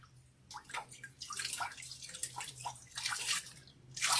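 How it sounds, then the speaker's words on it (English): Splashes of cold water scooped from a cup onto a face, repeated wet slaps and trickles that come close together and end in a louder final splash. "I'm gonna rinse my face with cold water."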